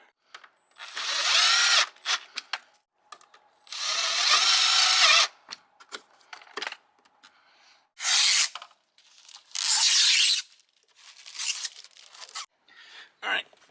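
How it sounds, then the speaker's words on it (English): A power drill drives self-tapping screws into the bottom of a splitter on a BMW X5 E70 bumper, giving several loud, close whirring bursts of a few seconds each, broken by shorter clicks, handling noises and pauses. "I'm gonna go ahead and put a couple of self-tapping screws in there"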